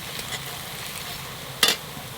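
Spice masala sizzles softly in a pan during the kosha stage, with a steady low frying hiss and one brief louder scrape of stirring near the end.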